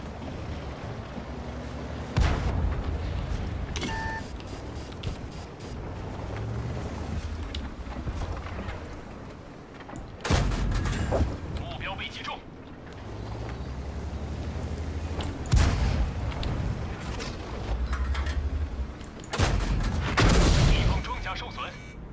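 Artillery and gunfire in World of Tanks sound as several loud, sharp booms spaced through the stretch, over a continuous low engine rumble and ambient battlefield noise.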